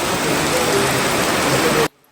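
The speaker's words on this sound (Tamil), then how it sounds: "சரியான மழைங்க வந்தாச்சு" Heavy jungle rain pours down in Taman Negara, Malaysia, a loud dense roar of downpour that holds steady and then cuts off abruptly near the end.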